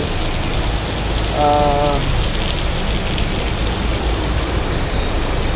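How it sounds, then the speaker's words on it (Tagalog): Steady heavy rain roars throughout, a dense continuous wash of drops with a brief faint tonal sound early on, during a Honda Click scooter tire test. "sobrang lakas talaga ng ulan"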